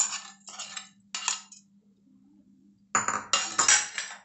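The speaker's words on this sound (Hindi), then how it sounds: "तड़का को हम चावल में डाल रहे हैं जो मसल के रखे हैं उसमें।" A sizzling splash of hot tempering oil poured over mashed curd rice: two bursts of crackling, separated by a few quiet seconds, with a few clinks of metal against a pan.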